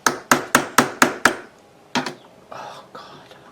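A metal ring is hammered flat at a jewelry bench: six sharp, evenly spaced metallic taps in quick succession, then a few scattered softer knocks and handling noises.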